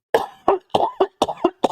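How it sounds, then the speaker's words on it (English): A person coughs six times in a rapid, close, fairly loud burst, each a short harsh hack. "Sorry, I have a bit of a cough."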